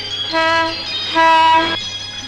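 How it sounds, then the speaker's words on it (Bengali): Two loud, sustained blasts of a train horn, one after the other, over a low steady rumble. "তোমার ট্রেন এখন ছেড়ে যাবে। ট্রেন ছেড়ে গেল,"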